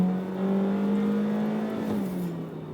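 A 2023 Honda HR-V EX-L AWD with a CVT transmission revs its engine in a sustained, droning whine that holds a steady pitch, dips slightly near the end, and stays loud and continuous.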